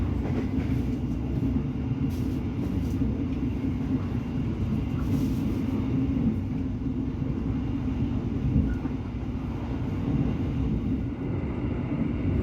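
Inside the Joglosemarkerto passenger train cruising at about 75 km/h, a steady rumbling roar of wheels and carriage with faint rhythmic rail clicks, continuous and even throughout.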